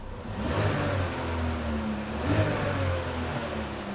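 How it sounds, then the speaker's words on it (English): A car engine revs quickly during crankshaft position sensor testing, its mid-pitched drone rising and falling in steady close pulls with no voices over it. "Can you rev it up quick?"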